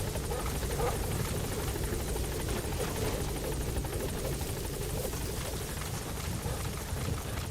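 A support helicopter in the video game Metal Gear Solid V: The Phantom Pain whirs continuously and steadily, a dense rotor chop filling the scene at a constant, fairly loud level.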